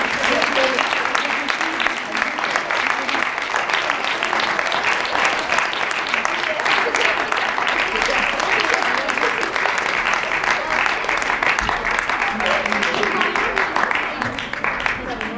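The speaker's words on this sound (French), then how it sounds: "vous pouvez redoubler d'applaudissements" Sustained theatre audience applause, dense and loud, rolling on for about fifteen seconds at an even level with a few voices faintly underneath.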